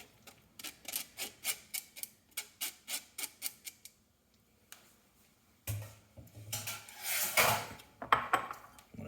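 Ceramic bowls and utensils clink and tap in a quick rhythmic series while Tsujita LA ramen is plated, then a pause before louder, busier clattering and scraping up close.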